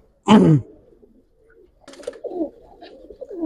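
A Jabra pigeon lets out a single loud, deep coo up close, followed by softer, lower murmuring coos after a brief pause.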